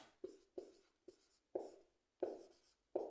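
A pen writes out a trigonometry equation on paper, heard as six short close scratching strokes at an uneven pace, quiet and alone.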